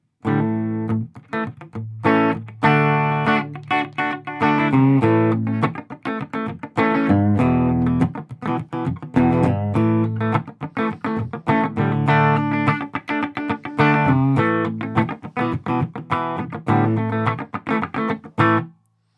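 A distorted electric guitar plays chords and riffs through a Quilter Interblock 45 amplifier, loud and continuous with short pauses between phrases, no talking.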